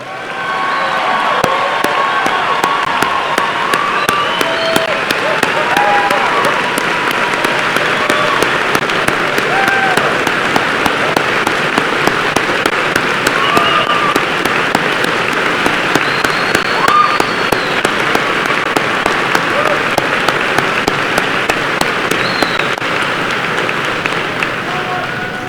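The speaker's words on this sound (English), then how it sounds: "Let's give these future soldiers a big round of applause here." A large crowd at a high school commencement gives long, loud applause for future soldiers, a dense roar of clapping with cheers and whoops rising through it for the whole span.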